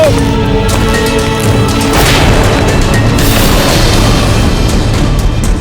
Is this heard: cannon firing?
yes